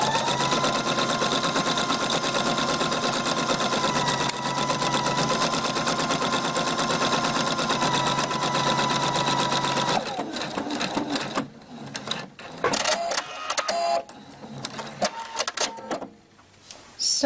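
A sewing machine fitted with a universal size 80 needle stitches medium-weight cotton fabric for a microwave popcorn bag, a loud, steady rapid whir for about ten seconds, then stopping and starting in short bursts.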